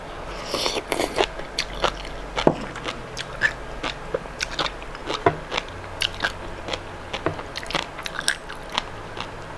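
Crunchy bites and wet chewing of sea grape seaweed, close and intimate, with a steady run of crisp pops and crackles repeating every half second or so in a quiet setting.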